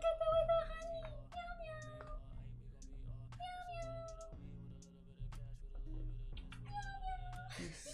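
A pet cat meows repeatedly in a home while someone talks and playfully imitates the meows in her own voice; game music plays steadily underneath.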